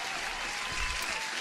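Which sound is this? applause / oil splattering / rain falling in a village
applause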